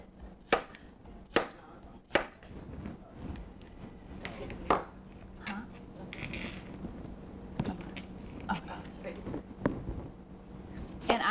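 Summer squash and other vegetables chopped with a knife on a cutting board, sharp irregular thunks with a few loud strikes spaced out over several seconds, close by and mixed with faint talk.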